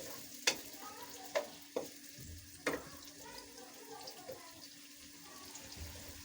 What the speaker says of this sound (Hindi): इसको हम थोड़ा सा फ्राई कर लेंगे।